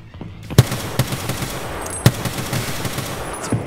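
Automatic gunfire in Escape From Tarkov on the Reserve map, a loud near burst followed by several spaced shots over a steady game background.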